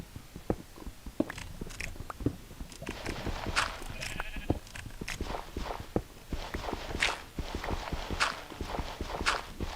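Sheep bleat in Minecraft amid a steady patter of footsteps and clip-clop steps, several short calls rising at intervals over about ten seconds, fairly close and clear with no talking.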